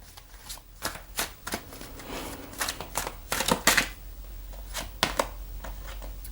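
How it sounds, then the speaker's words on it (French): Tarot cards being shuffled by hand, a run of crisp riffling flicks and soft slaps in uneven bursts, close and fairly quiet, with no talking. "je vais prendre quelques cartes du tarot pour l'évolution"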